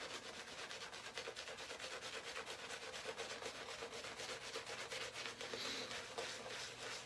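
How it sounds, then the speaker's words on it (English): A synthetic shaving brush scrubs lather on a face with steady, continuous close brushing and rubbing that stays even throughout, with no voices. "Now we'll get in for the scrub."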